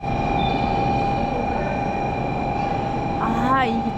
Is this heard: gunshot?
no